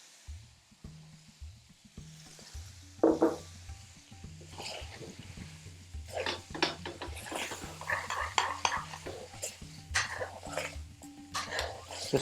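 Chicken tikka hits a curry masala base in a hot pan and sizzles steadily, with stirring scrapes and clatter throughout and a low voice talking now and then.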